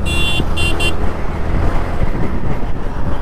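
Yamaha MT-15 motorcycle engine with VVA active while riding on the road, a steady loud drone under strong wind rush, with a few short horn-like tones near the start.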